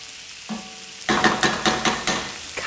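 Ground cumin frying in a hot pan for a turmeric fish curry, a soft sizzle that jumps to a loud crackling hiss with rhythmic stirring scrapes pulsing several times, close up.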